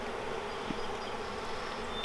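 Honeybees in an opened hive during a cold spring inspection make a dense, continuous buzz, with a few individual bees droning close by over the steady hum.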